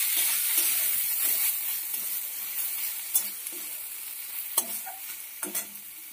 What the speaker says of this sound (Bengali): ঢাকনাটা এবার খুলে নেব, একটু ভালো করে নাড়ি চাড়িয়ে দেব।